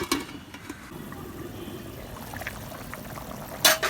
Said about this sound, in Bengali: আমার পানিটা ফুটে গেছে ভালোভাবে।